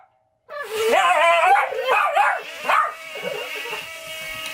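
Several dogs bark excitedly at a drone, a rapid burst of loud close barks and yips that starts abruptly after a brief silence, then settles into lower whimpering and scattered yaps.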